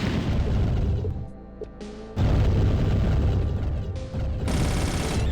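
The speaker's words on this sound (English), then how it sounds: "I'm gonna break out the rocket launcher for some of them." In Doom II, rocket launcher blasts go off one after another, heavy booming explosions with crackling tails over constant loud game noise, with a brief quieter dip midway.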